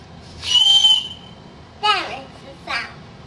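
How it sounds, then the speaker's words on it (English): A high, steady whistle tone lasting about half a second, followed by two short rising-and-falling whistled chirps, with faint background noise. "we have our own whistle to make us go in and out"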